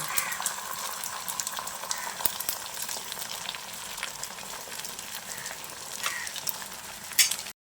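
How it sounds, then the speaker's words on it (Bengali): A ladle of egg batter for an omelette, cooked for a dal omelette curry, fries in hot oil with a dense, continuous close-up sizzle and crackle that runs steadily before cutting off abruptly. "এবার ওই যে ডিমের ব্যাটারটা তৈরি করে রেখেছিলাম, তার মধ্যে থেকে 1 হাতা ব্যাটার নিয়ে এই গরম তেলের মধ্যে দিয়ে দিচ্ছি।"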